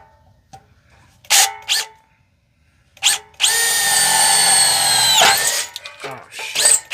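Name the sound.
power drill drilling into a van body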